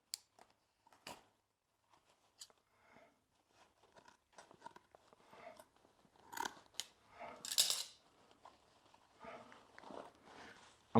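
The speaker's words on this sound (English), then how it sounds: "So I'm just going to use a pair of scissors." Scissors snip a zip tie off a Craftsman leaf vacuum bag, giving several sharp close clicks and cuts spread across the stretch, with rustling of the bag between them and no talk.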